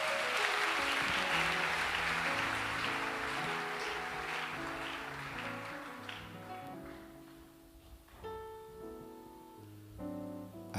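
A church congregation claps and cheers in praise of the Lord. The loud, dense applause fades over several seconds as sustained music with instrumental tones rises and carries on alone to the end.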